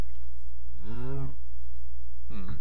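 A Minecraft cow moos twice, a long low moo followed by a shorter one, close and loud over a steady low hum.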